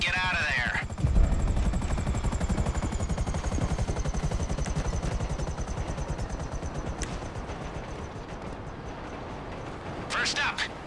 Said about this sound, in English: This is a stealth chopper, but it's got rotors.